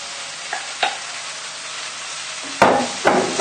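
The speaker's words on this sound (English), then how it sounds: "Just give it a little stir around," Raw pork being stirred in a cooking pot, with a few scraping clunks of a utensil against the pot, spaced out and growing louder toward the end, over a faint background hiss.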